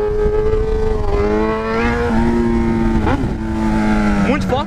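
A Yamaha XJ6 motorcycle engine revs hard near 13,000 rpm, its pitch climbing in steady sweeps and dropping with each gear change. The engine sits close and loud, and occasional short roars rise at the shifts.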